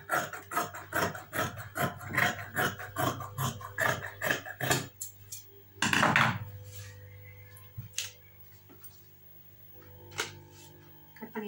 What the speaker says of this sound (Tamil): இப்போது இதை வந்து அடியில் இந்த கொம்புல கட் பண்ணிக்கலாம்.